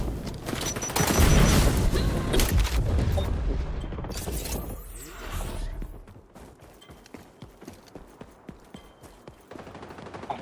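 Rapid bursts of AK-47 automatic fire in the shooter game XDefiant, loud and close, dense at first and then thinning to sharper scattered shots and mechanical clicks.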